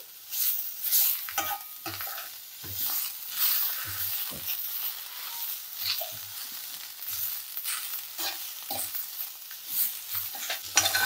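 Curry leaves and coriander, along with mint, fry in a pan, giving a crackling sizzle broken by repeated scraping stirs, loud and close.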